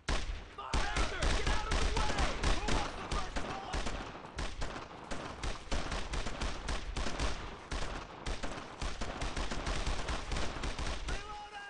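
Sustained suppressing gunfire rattles through a Brothers In Arms: Road To Hill 30 battle, dense rapid rifle and machine-gun shots firing almost continuously at close range, with shouted voices mixed in.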